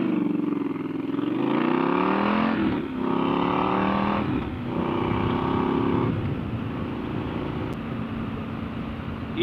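A motorcycle accelerates hard on a wet road, its engine note climbing through rising harmonics with brief dips at each gear change across several gears, loud and close over a steady hiss of tyre spray and wind, with no talking.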